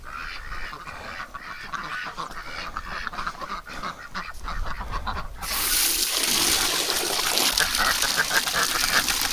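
Ducks kept through winter quack and honk continuously at close range, a dense overlapping chorus that grows louder and more crowded partway through.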